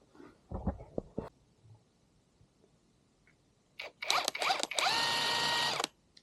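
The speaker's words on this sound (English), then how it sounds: "This piece of shit Amazon Impact just did the fucking trick." A cheap Amazon-bought impact wrench works on a boat engine flywheel. A few sharp clicks come first, then loud rattling bursts and a sustained, close hammering whine near the end.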